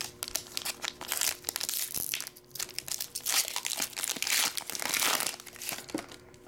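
Pokémon card booster pack wrappers being torn open, with dense, close crinkling and crackling of foil plastic that comes in rapid irregular bursts, continuous and fairly quiet.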